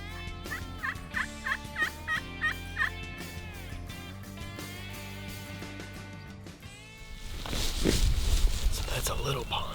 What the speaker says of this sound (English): there's a lot of turkeys over here. Big old pile of gobblers.